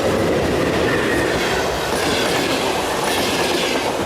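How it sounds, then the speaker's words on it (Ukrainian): A passenger train rushes past at full speed on the neighbouring track beside a rail construction site, a loud, continuous roar with rattling wheel clatter up close, no talk. "Поїзд!"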